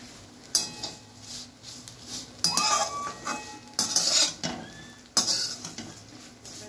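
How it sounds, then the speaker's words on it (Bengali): Metal spatula scraping and clinking against a pan while flattened rice (chire) is stirred in oil, with a faint sizzle beneath; irregular close scrapes and knocks come in bursts, and no one speaks. "এটা খুন্তি দিয়ে ভালো করে কিন্তু এটাকে একটু নেড়ে চেড়ে চিড়েটাকে তেলের সঙ্গে মিশিয়ে নিতে হবে"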